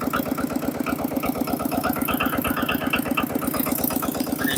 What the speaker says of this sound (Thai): อันนี้ของจีนเด้อนี่เด้อลองฟังเสียงมันเด้อเล่นให้ฟัง